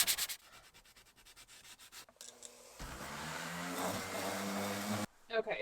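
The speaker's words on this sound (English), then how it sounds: "Now I'm gonna sand down all the little areas I patched with this 220 grit." Hand sanding of small patched areas on a Scamp camper with 220 grit sandpaper, first in quick rhythmic strokes and then as a longer continuous rub, close and fairly quiet.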